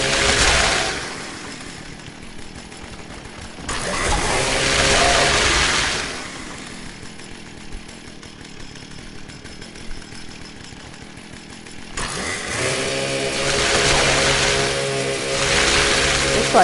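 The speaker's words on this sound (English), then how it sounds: "once you engage the chainsaw, it does seem that they become aware of you" A video game chainsaw, a vampire anti-armor weapon, running continuously and loud up close, revving in three long surges over a lower rattling idle between them.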